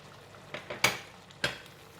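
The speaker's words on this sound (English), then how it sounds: "Once put in the basil leaf, just give it a couple of stir." Clams (lala) stir-fried with chilli and basil in a wok, with a few scraping stirs and soft sizzling, two sharper clattering strokes standing out over a quiet hiss.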